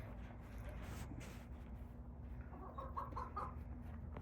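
Backyard chickens cluck softly and steadily as they peck at scattered corn, a low close murmur of fowl sounds over a constant hum, with a few brighter clucks toward the end.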